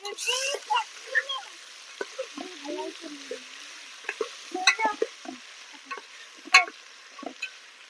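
Onion and tomato frying in a pan for a village-style tender coconut chicken, with scattered scraping stir strokes and light sizzling bursts, close and intermittent, with no steady voice over them.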